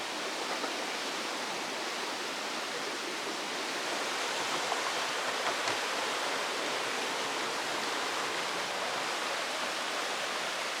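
River water rushes steadily past a bamboo raft near Ocho Rios, Jamaica, making an even, hissing wash that stays constant and fairly close with no voices.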